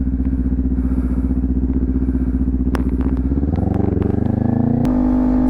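A motorcycle being ridden, with a steady, close engine throb. The pitch shifts upward partway through as it revs and changes gear, along with some wind and clatter.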